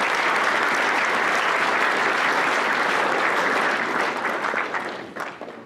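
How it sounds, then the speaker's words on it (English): A school assembly audience applauds Hall of Fame honorees, dense sustained clapping filling the hall, steady and loud before tapering off near the end. "Please give them a round of applause."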